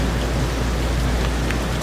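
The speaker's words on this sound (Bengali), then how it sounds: "প্রচুর পরিমাণে মক্কায় বৃষ্টি হইতেছে" Heavy rain pouring down in Mecca, a dense, loud, continuous roar of water hitting surfaces with no gaps.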